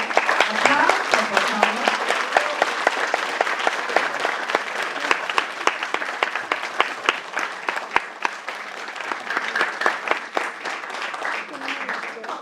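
An audience applauds at a talk on femicide and the prison system, with steady dense clapping throughout and a few voices faintly mixed in.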